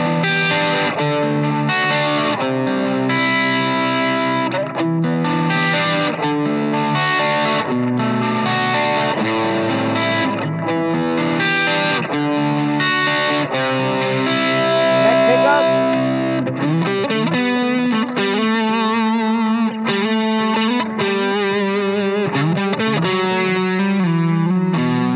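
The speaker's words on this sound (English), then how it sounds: "Guitar sings, man." A Gibson Custom Shop Vivian Campbell Les Paul Custom electric guitar with a satin-finish maple and walnut neck, played with heavy distortion: loud, continuous chugging riffs and sustained chords fill the whole stretch.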